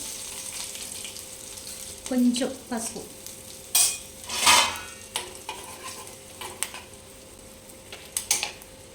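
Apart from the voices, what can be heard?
tempering mustard seeds, cumin, red chili, garlic frying in oil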